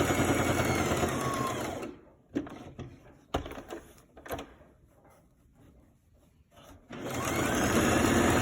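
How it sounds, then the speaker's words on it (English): A sewing machine top stitches a shirt collar at a quarter-inch seam allowance, starting without a back stitch: a steady, close whirring run that breaks into short bursts and pauses midway, then resumes as a continuous hum. "we can top stitch this with 1/4 inch seam allowance. Start sewing"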